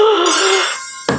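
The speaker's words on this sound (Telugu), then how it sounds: "ఫోన్." In a software office comedy skit, a telephone gives one loud electronic ring that fades out and ends with a short click.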